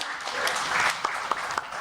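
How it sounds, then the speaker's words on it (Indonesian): Scattered, thin applause from an audience at a panel discussion, a few distinct claps rising over a murmuring room, fairly faint and brief. "Ini tepuk tangan"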